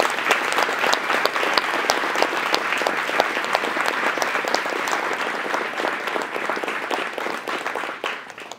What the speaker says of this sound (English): can we also get another round of applause for all of the speakers that you've heard from today?